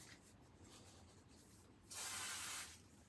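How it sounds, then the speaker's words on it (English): Spray glue hisses onto a foam block in one short burst of about a second, preceded by quiet handling and rubbing sounds, fairly close with no talk. "I'm going to use a little bit of spray glue again"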